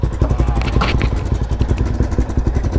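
A Yamaha Raptor 350 ATV engine runs close by with a steady, loud, rough mid-pitched drone and a clattery pulse, with brief voice sounds over it.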